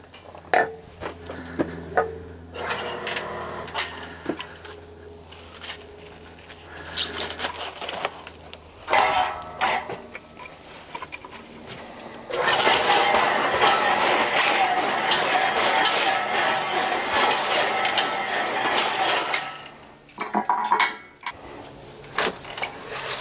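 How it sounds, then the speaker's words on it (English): A DYNA FB10 electric firewood bundler at work, with clanking wood pieces dropped in, mechanical clicks and a loud sustained whirring stretch of motor and strapping noise in the middle, with speech breaking in at times. "drop them in the bundler, and we'll be having our production line ready to roll"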